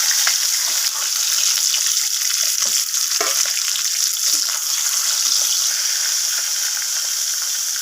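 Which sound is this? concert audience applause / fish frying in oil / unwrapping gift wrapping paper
fish frying in oil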